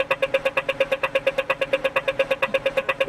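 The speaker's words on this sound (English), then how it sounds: "you press the button, and then when the walk sign turns on, you hear this like rhythmic sound that I love and that Billy loved" An Australian pedestrian crossing signal gives a fast, even run of sharp ticks at a steady rhythm, close and clear with no voices over it.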